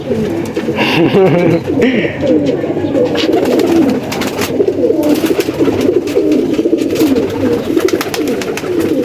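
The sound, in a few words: pigeon cooing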